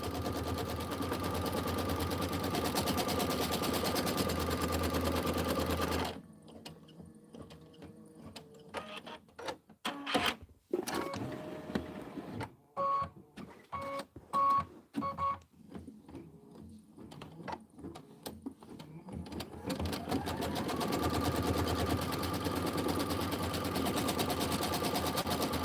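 A sewing machine tacks down the background of a quilted pillow block, running in long steady stretches at the start and end with choppy stop-start stitching and clicks in between.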